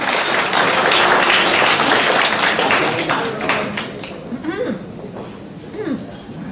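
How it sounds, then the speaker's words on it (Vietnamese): Audience applause at a Halloween party in a hall, loud dense clapping that fades out, followed by talk and murmuring voices. "Xin quý vị và các bạn cho một tràng pháo tay thật lớn cho An Trinh và Phước Lộc."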